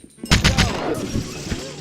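A shotgun fires in a multiplayer PvP match of the game Monaco on a community-made map, a quick burst of sharp blasts with a rattling tail over game ambience.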